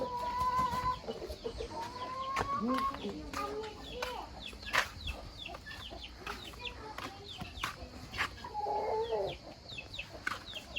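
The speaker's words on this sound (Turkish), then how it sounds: "hep tavuk. Horoz ve tavuk." Chickens clucking and a rooster calling nearby amid a busy farmyard, with scattered sharp noises and people talking faintly.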